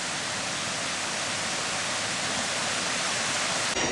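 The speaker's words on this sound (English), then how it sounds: "This is a nice little creek right next to where the cemetery is located." Creek water rushing steadily beside a cemetery in the Fraser Canyon, a close, continuous broadband wash with no pauses, holding an even level throughout.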